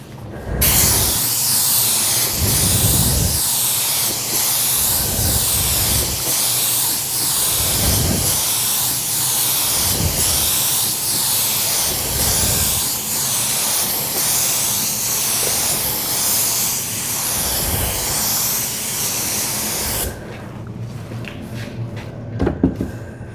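Lacquer finish sprayed onto a sealed kitchen cabinet panel, a loud continuous airy hiss in repeated passes with brief pulses, running steadily for about twenty seconds before cutting off into quieter room noise.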